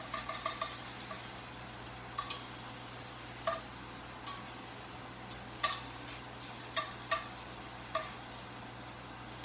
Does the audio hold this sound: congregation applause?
no